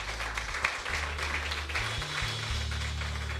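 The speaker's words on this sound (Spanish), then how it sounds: "Dale ese aplauso fuerte al Señor." Congregation applauding during a church worship service, a dense steady patter of many hands clapping throughout, moderately loud, with a low sustained tone from instruments running beneath.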